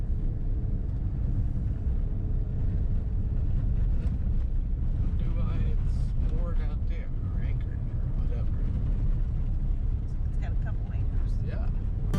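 Steady low rumble of a boat motor on open water off Eleuthera in the Bahamas, with wind buffeting the microphone; a voice speaks partway through.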